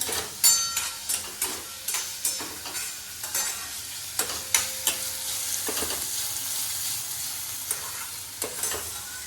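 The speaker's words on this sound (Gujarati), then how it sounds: "હવે એમાં આપણે ટમેટા નાખી દેવાના છે ત્યારબાદ એને પણ થોડીક વાર સાતડી લેવાના છે" Browned onions and tomatoes sautéing in a pan, a gentle sizzle under frequent rhythmic knocks and scrapes of a spatula stirring, close up with no talking.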